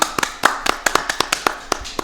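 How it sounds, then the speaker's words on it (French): About a dozen sharp, evenly spaced hand claps sound close and clear in a rhythmic burst, with little else around them. "On applaudit."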